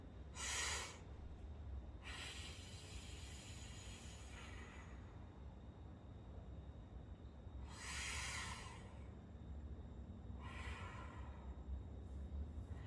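Slow, deep breaths during a kneeling back stretch come as several long airy hisses spaced a few seconds apart, close and soft over a quiet steady background, with no speech.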